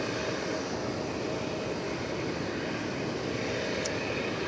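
Airplane at DFW Airport, a steady broadband engine roar at moderate distance that holds constant throughout with no talking.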